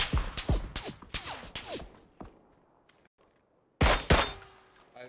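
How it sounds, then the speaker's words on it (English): Video-game gunfire: a rapid fusillade of sharp shots with fading tails, a quiet pause, then another close, loud burst of shots, no talk. "I hear shots north"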